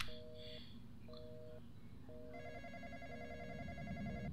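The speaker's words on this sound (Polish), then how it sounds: "Znowu telefon dzwoni." A telephone rings in the Roblox horror game The Intruder, with repeated electronic double-tone rings at a steady rhythm, joined midway by a second higher ringing pattern, clear against a low ambient game hum.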